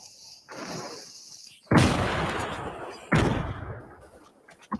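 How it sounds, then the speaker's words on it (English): Grenade blasts in the video game Fortnite, two sharp booming explosions about a second and a half apart with rumbling decay, preceded by softer game noise and heard under occasional faint talk. "I'm going to grenade him."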